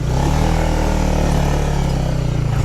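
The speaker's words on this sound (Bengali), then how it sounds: "এই যে আমি বাইক নিয়ে উঠে যাচ্ছি" A Honda CBR 150R motorcycle climbs a muddy red-earth hill, its engine droning steadily and loudly close by under load with a rough, continuous note.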